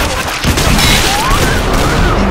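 Grenade explosion in the zombie shooter Left 4 Dead 2, a loud sustained booming blast with crackling debris filling the whole moment, over dense in-game noise.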